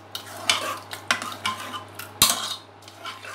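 A spoon scrapes and clinks against a bowl, stirring bitter gourd (karela) chutney mixed with mustard oil, with repeated metallic taps in an uneven rhythm and one sharper knock near the end.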